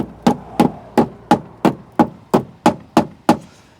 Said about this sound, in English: Let's get the knocking stick.